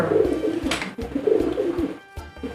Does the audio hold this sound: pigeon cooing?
yes